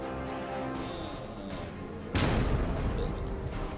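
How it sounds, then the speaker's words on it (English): A grenade goes off in Arkham Knight, a sudden loud broadband blast partway through that lingers as a rumbling tail over steady game background noise. "Grenade!"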